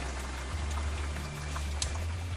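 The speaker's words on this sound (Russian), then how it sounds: "На улице идет сраный дождь" Rain falls outdoors at an abandoned summer camp, a soft, steady patter of drops that stays faint throughout, with a low hum underneath.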